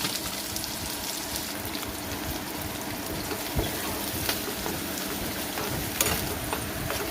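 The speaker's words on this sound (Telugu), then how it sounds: "ఆనియన్స్ కూడా బాగా ఫ్రై చేసుకున్నాము." Onions fry in a generous amount of oil for a ridge gourd curry, producing a dense, steady crackling sizzle close by, continuous and even with occasional sharper pops.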